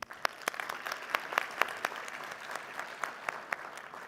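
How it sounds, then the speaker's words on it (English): Audience at an AI summit breaks into steady applause, many hands clapping at a moderate level with a few sharper individual claps standing out, no talking. "A round of applause once again"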